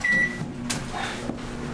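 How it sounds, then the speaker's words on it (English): A microwave oven starts with a beep, then its steady hum runs on with a soft door or cupboard click partway through. "And then let's go ahead and throw this back in the old microwave."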